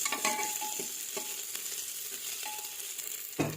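Onion sizzles in hot oil with whole cumin and two bay leaves at the start of a khichdi, with steady frying crackle broken by the scrape and clatter of a spoon stirring the pan. No one speaks.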